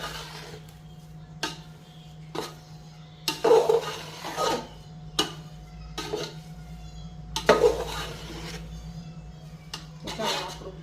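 A spoon scrapes and clinks against a metal pot while churma laddu mixture is stirred, giving a run of irregular, close scraping strokes and knocks over a steady low hum, with no talking.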